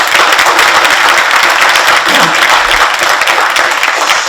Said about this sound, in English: can we give a big round of applause to Heather